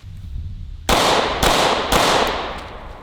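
Three sharp 9mm pistol shots fired at a rubber dummy crack out loud and close, spaced about half a second apart after a moment of low background noise.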